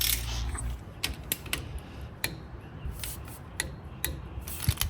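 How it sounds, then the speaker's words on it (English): A 15mm socket wrench tightens a banjo bolt on a Jeep Gladiator, giving quiet intermittent ratcheting clicks and metallic rubbing, close and low in level. "taking our 15mm socket, we're going to tighten up the banjo bolt to 23 foot-pounds of torque"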